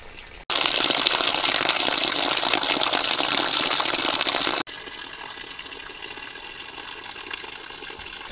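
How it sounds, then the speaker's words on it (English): Water from a well near a remote woodland cabin gushes loudly and steadily for about four seconds, then drops abruptly to a quieter, continuous trickling rush. "You can hear that water running from the well over there."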